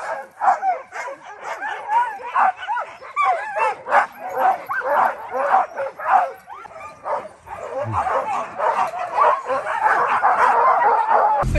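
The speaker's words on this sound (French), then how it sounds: "Je crois que les chiens languissent de partir." Pack of sled dogs in the Arctic barking, yipping and whining excitedly before a run, a dense continuous chorus of close overlapping yelps and bow-wows with no letup.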